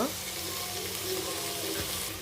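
Chopped garlic frying in hot oil for green palak rice makes a steady, close, even sizzle with no pauses.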